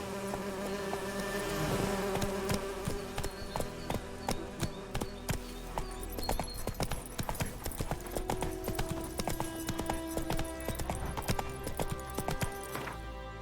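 Roach, the horse in The Witcher 3: Wild Hunt, gallops with a steady, rapid clip-clop of hooves alongside a continuous buzzing insect-like drone and a game soundscape, with no talk.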